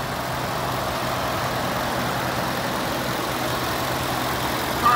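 A 2014 Ford F-150 XL pickup truck engine idles in a steady, even rumble with no talking, holding constant until a small bump at the very end.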